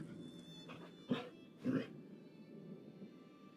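A dog whimpers in a video game, with two short whines close together near the middle over a quiet ambient background.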